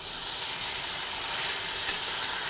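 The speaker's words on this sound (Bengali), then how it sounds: "বেশ কিছুক্ষণ নাড়াচাড়া করার পরে সবজিগুলো মোটামুটিভাবে সেদ্ধ হয়ে যায়। এইভাবে নাড়াচাড়া করে নিলাম।" Vegetables fry in a pan with a constant bright sizzle, close up, and a couple of brief scraping clicks from stirring near the end.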